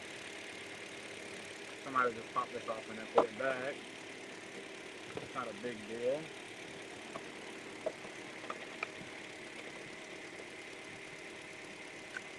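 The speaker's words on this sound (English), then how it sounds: "The engine sounds actually pretty good though." At a car auction, a car engine idles in a steady, moderate hum throughout while nearby voices talk over it in short bursts.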